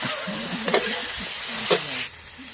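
Fish stir-fried in a wok at a small restaurant, a continuous close hiss of hot oil broken by a couple of sharp spatula scrapes before the sizzle drops slightly.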